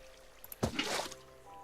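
Water in Minecraft splashes and pours briefly off the edge of a block: a quick watery gush rising out of quiet, then fading into a soft trickle.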